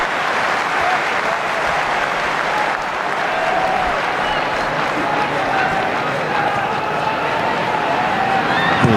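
Football crowd at a Wellington Phoenix versus Newcastle Jets match roars and applauds steadily throughout, a dense wash of far-off clapping and cheering filling the stadium.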